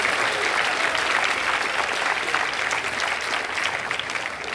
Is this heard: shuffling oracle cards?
no